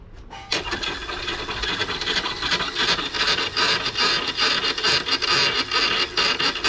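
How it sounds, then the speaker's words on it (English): A harsh, grinding rasp of a drill boring into hard chrome steel for a sailboat window, steady and loud throughout with slight pulsing variations, no voices. "that's because we're drilling in chrome steel"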